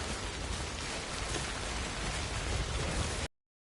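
Steady, dense video game rainfall hissing evenly throughout, a constant downpour with no voices, ending abruptly.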